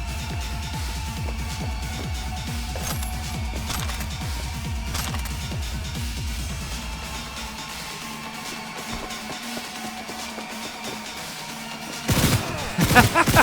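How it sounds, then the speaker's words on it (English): Rapid bursts of machine gun fire in the video game Cyberpunk 2077, crackling steadily at mid-distance for several seconds, easing off, then a louder clatter near the end, with no one talking. "this machine gun is pretty good"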